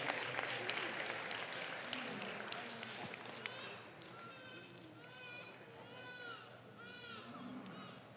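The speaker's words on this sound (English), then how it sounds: "Let's give them a nice big round of applause." Faint, distant applause from spectators at a junior dairy cattle youth show at the Kentucky State Fair, scattered clapping in a large reverberant space, with a few voices calling and talking.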